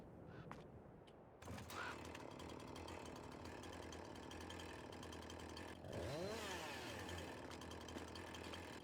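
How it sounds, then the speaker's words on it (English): After a quiet opening with a couple of soft clicks, a chainsaw in Farming Simulator 22 starts up and runs continuously, rising briefly in pitch near the end, with no speech. "I'm guessing it's using the fuel from a chainsaw."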